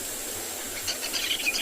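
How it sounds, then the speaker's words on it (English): A Jacobin cuckoo calling at sunrise on a safari at Tswalu in the Kalahari, faint bright chirping notes arriving in a quick cluster late in the clip over a soft, steady outdoor hiss. "You can hear the Jacobin cuckoo."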